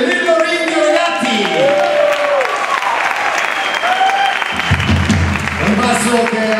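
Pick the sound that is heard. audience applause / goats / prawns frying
audience applause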